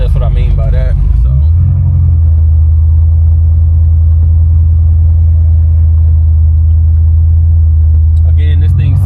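A 1988 Chevrolet Caprice V8 idles with a loud, steady low rumble that swells as it revs, with a voice talking briefly at the start and end.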